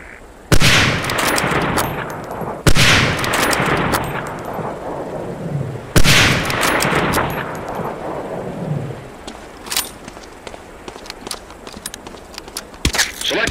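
Springfield 1903 sniper rifle fired in the Medal of Honor: Allied Assault boot camp training range, three loud, sharp shots spaced a few seconds apart, each with a long rolling echo tail, followed by fainter scattered clicks and handling noises.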